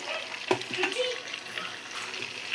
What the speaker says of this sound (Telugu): చికెన్ ఫ్రై అవ్వడానికి కాస్త టైం పడుతుంది మీడియం ఫ్లేమ్లో చేసుకుంటాం